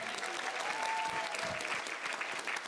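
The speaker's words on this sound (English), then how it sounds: "A round of applause for everybody" A panel audience claps steadily for the whole stretch, a fairly quiet, even wash of applause with a few faint voices mixed in.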